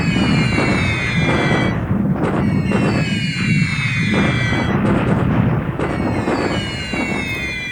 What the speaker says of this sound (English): Additional bombardment.